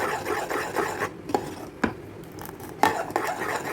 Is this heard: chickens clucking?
no